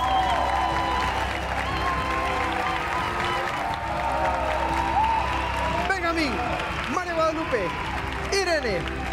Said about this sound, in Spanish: Un aplauso para nuestros seis participantes.